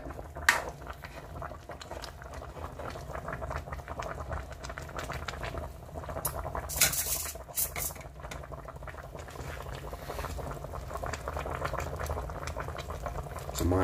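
Steady bubbling and gurgling of sinigang soup with pork head and eggplant boiling in a pot, continuous and close, with faint background clatter.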